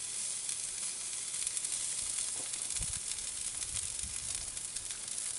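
Goose leg quarters sizzle steadily on a grill as the skin browns, a dense continuous frying hiss with a few soft pops and crackles, fairly close and with no voices.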